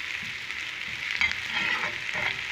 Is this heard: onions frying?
yes